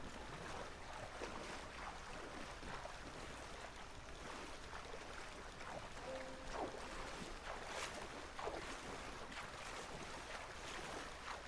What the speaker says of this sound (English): Now he's got the steam engine